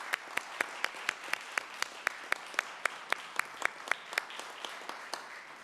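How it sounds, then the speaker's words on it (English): Scattered hand claps from a crowd at a city council meeting, sharp and fairly evenly spaced, steady across the whole stretch with no voices over them. "I just would like to give her another round of applause."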